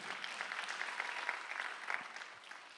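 A church congregation at a Sunday worship service claps together in a brief, fairly faint burst of many hands, with a few sharper claps rising near the middle.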